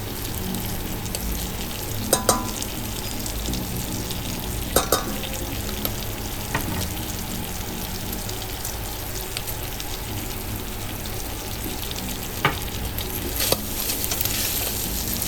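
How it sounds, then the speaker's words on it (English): Beef browns in a pot with garlic powder, onion powder and paprika, giving a constant crackling sizzle like light rain, with a few sharp spoon knocks and scrapes, close and steady without talking. "Then I continue to brown my beef again."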